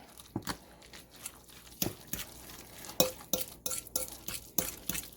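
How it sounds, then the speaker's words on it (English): A fork mixing ricotta stuffing in a bowl, giving irregular quick scrapes and clicks of metal against the dish with soft wet squelches between, close and fairly quiet, without speech. "I'm just going to take this fork. I'm going to get all of these ingredients mixed up really well."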